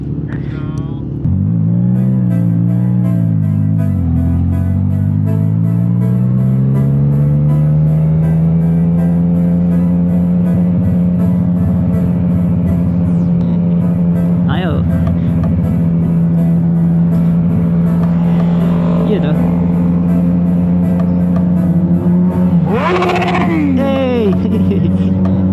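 A CFMoto 675 NK motorcycle cruising on a road, its steady engine drone holding a sustained low tone after an early rise in pitch, with wind rush and occasional passing traffic noise throughout.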